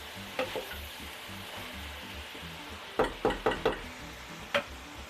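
Leeks frying in a pan with ground meat sizzle steadily while a spoon stirs them, with a soft scraping at first and then a quick cluster of sharp knocks against the pan, close and clear, no talking.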